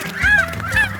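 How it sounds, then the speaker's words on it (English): Geese give two loud, close honks in quick succession, short and nasal, with nothing else around them. "Geese,"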